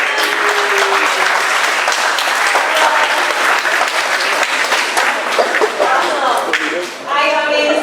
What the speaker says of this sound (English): So let's give them a round of applause and welcome them.